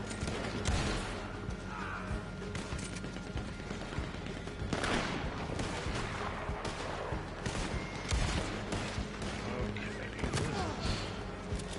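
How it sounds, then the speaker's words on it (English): Enemy gunfire in a Red Dead Online fight on a hill, scattered shots and thumping bursts at moderate distance amid game noise, with a player's voice talking over it. "Guys shoot me coming down the hill, about to kill me."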